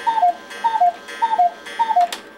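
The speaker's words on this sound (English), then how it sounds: "There's a lot of clocks that keep going off" Clocks ticking inside a clock repair shop, a steady, clear tick-tock in an even rhythm, each beat a two-note pair, close and alone with no talk.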